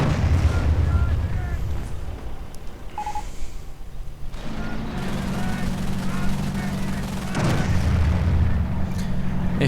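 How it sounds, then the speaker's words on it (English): Soviet air strikes in a World War II strategy video game set off deep, booming explosions that land in several heavy bursts amid battle noise. "More strikes from the Soviet Air Force."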